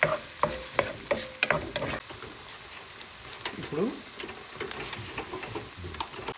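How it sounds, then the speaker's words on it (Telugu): Thinly sliced onion fries in a pan until golden brown, giving a steady close sizzle with sharp clicks and taps from stirring, louder at the start and easing into a softer crackle. "ఈ ఆనియన్ కూడా వేసుకొని ఈ ఆనియన్ కొంచెం గోల్డెన్ బ్రౌన్ వచ్చే వరకు దీన్ని వేయించాలి"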